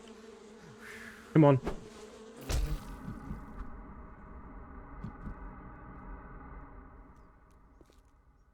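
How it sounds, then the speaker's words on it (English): Swarming bees buzz and attack in the survival game 7 Days to Die, a close, steady drone with a couple of sharp hits early on, while someone speaks briefly. "And I'm getting beaten up big time by these bees."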